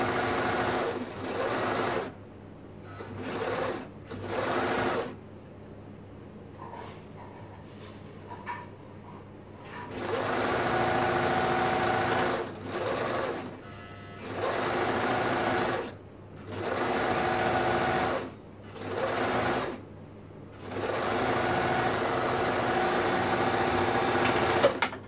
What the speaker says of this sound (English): so that's one bottom, and then we'll sew the other one right there.